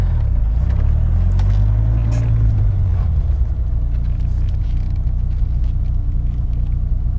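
A Dodge Viper RT10 roars hard off a launch, its deep engine note sweeping up loud and close with constant heavy rumble and no talking.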